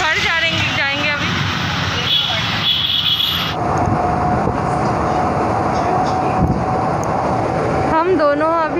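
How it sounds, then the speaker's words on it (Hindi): A moving Mumbai local train rumbles and rattles from inside the carriage, with a steady loud roar throughout. Voices talk over the noise. "हम दोनों अभी ट्रेन में बैठे हुए हैं और बांद्रा से तो निकल के आ गए"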